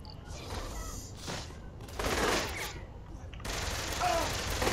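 Gunfire in the open-world crime game Saints Row: clustered bursts of shots arriving in waves, fairly loud and close, with a voice talking over parts of it.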